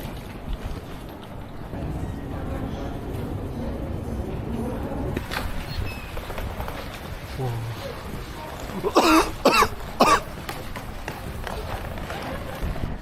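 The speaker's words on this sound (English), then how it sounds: "When I inhale too quickly, I start coughing out of nowhere." Someone breathing frigid air in a very cold city coughs in a short burst of several harsh, loud coughs close to the microphone, after a stretch of footsteps and background noise.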